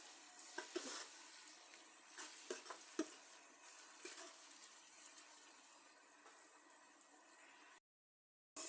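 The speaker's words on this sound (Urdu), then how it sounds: "اب میں اس میں ڈالوں گی پیاز اور پیاز کو ہلکا فرائی کر لوں گی" Onions lightly frying in hot oil in a pan, a soft steady sizzle with occasional stirring scrapes, quiet and close, with a brief drop to silence near the end.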